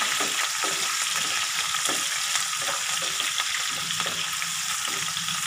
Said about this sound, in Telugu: ఇప్పుడు నేను ఉల్లిపాయ, పచ్చిమిర్చి కట్ చేసి పెట్టాను కదండి, అవి కూడా ఇందులో వేసుకుని ఫ్రై చేసుకోవాలి